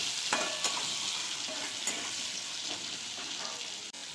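Pointed gourd pieces fry in hot oil in a wok, a steady close sizzle with occasional stirring scrapes and no voices.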